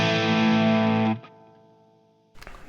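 Distorted electric guitar through a TwoNotes ReVolt British Crunch amp with every dial at noon, one loud crunchy chord ringing about a second, then cut to a faint decaying tail before a short strum near the end.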